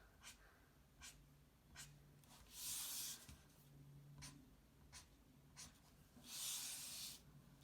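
Quick, light scratchy strokes of a pen on paper drawing a cat's whiskers, short flicks repeating several times, with two longer rubbing scrapes; quiet and close, with soft breathing.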